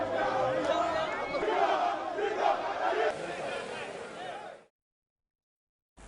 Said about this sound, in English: the crowd of supporters who had gathered near the court continued to chant freedom songs and slogans